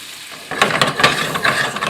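A hot pan deglazed with white wine after cooking with dill and sage: quiet at first, then a sudden loud hiss and crackling sizzle that keeps bubbling with stirring scrapes for over a second, close up and alone.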